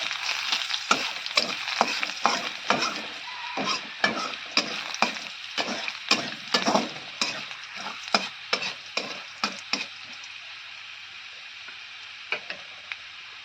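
Chopped garlic sizzles steadily in a hot pan while a spatula scrapes and stirs it in quick, irregular strokes, close and fairly loud, the frying hiss continuing beneath the clattering.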